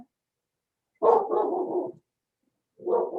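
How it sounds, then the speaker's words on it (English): A dog barks twice, a short burst of close, fairly loud barks followed after a pause by another, with silence around them. "My dog is liking that."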